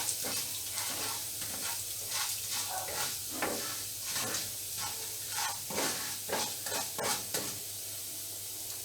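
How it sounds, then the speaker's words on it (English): Banana stem stir fry sizzles steadily in a hot pan, a continuous bright fry hiss broken by soft irregular scrapes of stirring, close and fairly quiet with no voices. "I will fry it for 2 or 3 minutes. Till it is a little bit brownish color."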